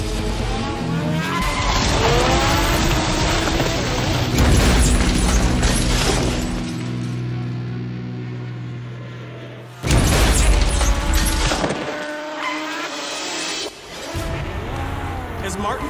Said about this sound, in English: As Martin takes the turn, his rear wheel locks up, throwing him off his bike.